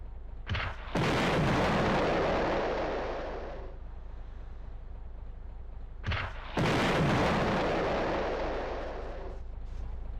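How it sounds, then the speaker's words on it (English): Two heavy bazooka blasts in the WWII shooter Hidden & Dangerous, fired at a tank, each a loud booming explosion with a long rumbling decay, the second coming about six seconds after the first. "I am not the most accurate person when it comes to firing my bazooka"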